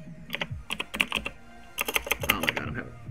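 Computer keyboard typing during a live stream of the mobile game Idle Heroes: two quick bursts of rapid, close clicking keystrokes separated by a short pause, with no voice.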